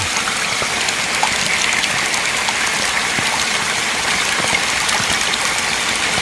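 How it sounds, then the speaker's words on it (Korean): A waterfall beside a cafe's award-winning garden rushes and splashes in a steady, dense roar of falling water, close and continuous without voices. "이 아름다운 정원 옆으로 이런 시원스럽고 한여름 장마철 청량감을 줄 수 있는 그런 멋진 폭포가"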